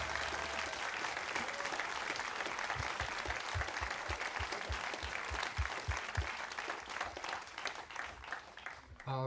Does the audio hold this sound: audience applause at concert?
yes